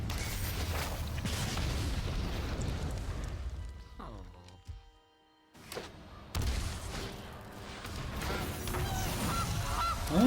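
Goose honks ring out within a Magic: The Gathering digital card game match, set among busy game music and effects, with a brief near-silent gap midway before the sounds resume.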